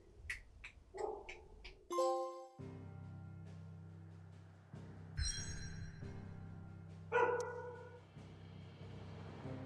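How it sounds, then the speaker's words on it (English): A pet dog barks and yips indoors, several sharp barks early on followed by whimpering and more yaps, heard over a low steady hum from video game music. "What are you barking at"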